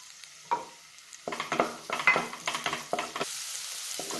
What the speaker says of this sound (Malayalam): എണ്ണ ചൂടായ ഉടനെ സവാള ഇട്ട് 1 മിനിറ്റ് നന്നായിട്ട് വഴറ്റണം.